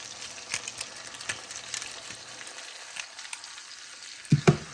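Steak sizzles in a pan of slowly melting butter with rosemary, a steady close frying crackle with scattered pops and a couple of louder spatters near the end, no talking.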